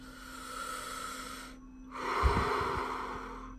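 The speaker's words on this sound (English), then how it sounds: "Breathing into the stomach." During a calming tapping exercise, a person takes a slow, deep breath into the stomach, heard as an airy exhale, a brief pause, then a stronger, louder drawn breath, close and with no talking.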